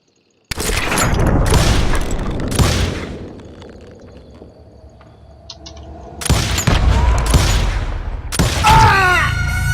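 Gunshots in a duel in the video game Call of Juarez Gunslinger: a rapid volley of loud, sharp bangs, then a pause with fading echo, then a second burst of shots close and forceful.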